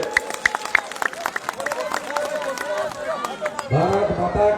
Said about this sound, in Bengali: আপনারা সকলে একবার হাততালি দেবেন।